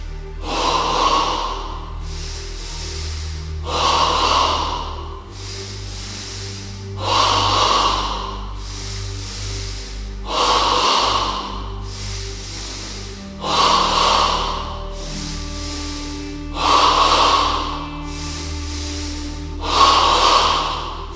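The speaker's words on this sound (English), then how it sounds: "Now in stage 2 of double breathing, the breath moves from the abdomen to the chest." Stage-two yoga double breathing, the breath moving from abdomen to chest: a regular series of close, forceful nasal inhales and exhales roughly every two to three seconds, with no speech.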